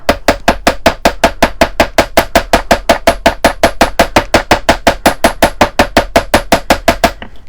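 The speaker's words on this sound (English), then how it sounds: "with the bench block and a ball peen hammer, and I'm going to hammer gently on the top" A ball peen hammer taps jewelry on a steel bench block in a fast, even rhythm of sharp metallic strikes, about five per second, close and loud for roughly seven seconds.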